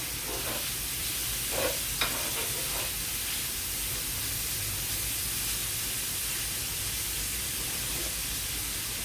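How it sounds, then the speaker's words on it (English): Bacon fries in a pan at about 300 degrees with a constant close sizzle, and a few soft scraping stirs come early on before the frying noise settles into an even hiss. "You're just gonna fry up your bacon and Once it starts getting brown, I'll just stir that a bit."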